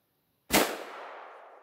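A single sharp gunshot from a 7mm Remington Magnum rifle with a 26-inch barrel, firing 155-grain Federal Terminal Ascent ammunition: one loud close crack followed by a long, fading rumbling echo, with no voices.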